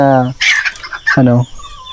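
Hen on a small mini farm giving two loud, close clucking calls in quick succession, each a drawn-out throaty cluck.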